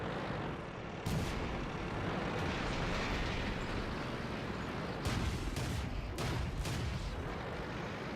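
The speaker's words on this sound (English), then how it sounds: "That's a 2-round burst gun that I'll be showing you in my next video" Two-round burst tank gun blasts in World of Tanks during a battle, heavy booming shots with rumbling low-end background noise, a couple of sharp bursts standing out amid continuous loud battle din.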